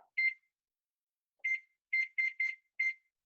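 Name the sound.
kitchen timer being set, beeping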